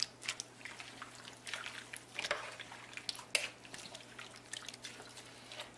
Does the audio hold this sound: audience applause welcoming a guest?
no